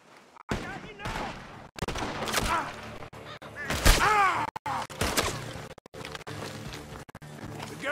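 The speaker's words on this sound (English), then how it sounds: "The gunshots are coming from that barn!" Bursts of rapid gunfire from a barn crackle through a busy Red Dead Redemption 2 soundscape, with sharp loud shots, intermittent volleys and voices shouting over the chaos.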